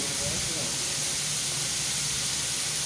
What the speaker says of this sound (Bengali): তার মধ্যে হচ্ছে লাউর খোসাগুলো আমি দিয়ে ভেজে নিচ্ছি